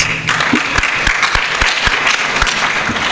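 Applause at a business summit in Eldoret, a crowd clapping steadily for a few seconds with sharp individual claps standing out, fairly close and loud, no talk over it.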